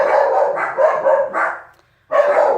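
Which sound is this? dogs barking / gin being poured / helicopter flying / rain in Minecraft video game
dogs barking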